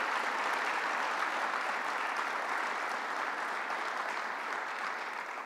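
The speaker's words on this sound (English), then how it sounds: "Let's give her a big round of applause" An audience at a political event with the governor applauds steadily, dense close clapping sustained throughout and easing slightly toward the end.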